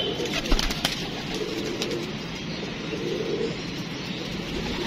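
Several pigeons coo steadily in a loft at night, a soft continuous murmur of overlapping calls up close with no talk.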